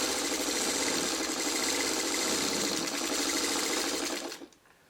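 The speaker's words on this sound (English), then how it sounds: "we're going to run that stay stitching all the way around the outside, right in the seam allowance" Sewing machine running stay stitching around the outside of a quilt block, a close, steady rapid mechanical whir for about four seconds that stops abruptly.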